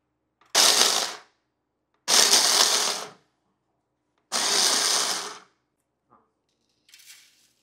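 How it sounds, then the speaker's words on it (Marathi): Mixer grinder grinding wheat fine for malida bhakri ladoo, run in three short loud bursts of about a second each with pauses between, then a faint brief tail at the end. "हिला बारीक करताना एकदम घ्यायची नाही, नाहीतर ती जास्त बारीक होते."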